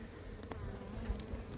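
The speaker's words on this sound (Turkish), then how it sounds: "İtalyan arısı bakın maşallah çok sakin." A steady, soft buzzing of Italian honey bees at a hive fills the clip, a continuous low drone of many insects close by with no talking.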